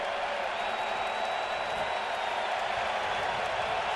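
Baseball stadium crowd at a Yankees–Blue Jays game swells into a steady, loud roar of cheering, a dense wash of massed voices and noise holding constant throughout, with a faint high whistle-like tone running through it.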